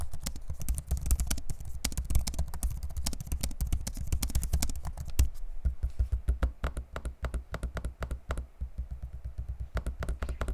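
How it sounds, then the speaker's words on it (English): Rapid, irregular clicking of HP Envy 15 laptop keys and trackpad taps, close and crisp, with brief pauses between bursts of typing. "Here's a quick sample of me using the keyboard and trackpad."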